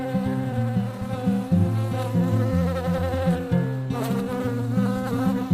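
A buzzing bee sound effect: a steady, loud insect drone that hums continuously for several seconds with slight wavering in pitch.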